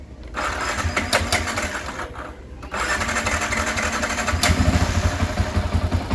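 A motorcycle engine with an uncalibrated throttle position sensor runs loudly and steadily, its throttle rising briefly before settling into a rough, continuous idle.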